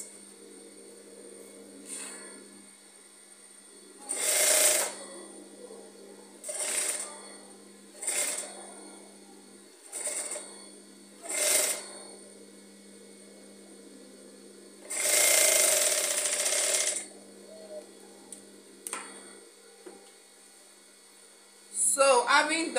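A sewing machine stitching a scissors-neck basque corset blouse runs in several short bursts, each a second or two long, with one longer run near the middle and quiet pauses between them.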